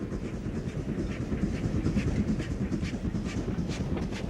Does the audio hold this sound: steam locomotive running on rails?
yes